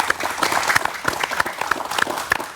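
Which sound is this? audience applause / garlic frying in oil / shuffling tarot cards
audience applause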